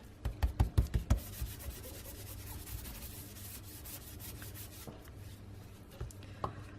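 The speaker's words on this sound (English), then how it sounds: "we're going to run our embossing buddy over it." An embossing buddy tool rubbed quickly over paper for card making, several short close scuffing strokes at the start followed by softer, quieter rubbing.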